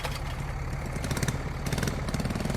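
Harvester engine running in the Farming Simulator 19 video game, a steady loud mechanical drone with low rumble and a busy mid-range whirr, constant throughout with no talking.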